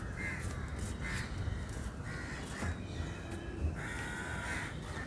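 Several crows caw at intervals on a morning nature trail in Mumbai's wooded hills. The calls are spread out and fairly distant over quiet background ambience.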